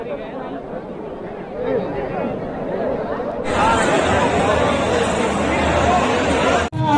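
A large crowd of young people chattering at the gate of Ekana Stadium, a dense, continuous babble of many voices that swells louder midway and stays busy, with nearer voices mixed into the hubbub.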